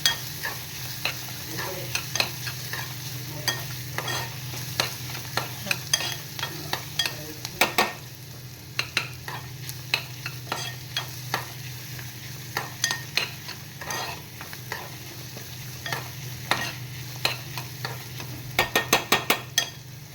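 Onion frying in oil with crushed ginger-chili paste, giving a steady sizzle and low hum under frequent rhythmic spatula scrapes and clicks, with the scraping turning quicker and denser near the end, with no talk.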